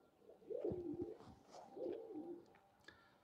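Pigeons cooing nearby in two rolling, throaty phrases, soft but clear against a quiet background.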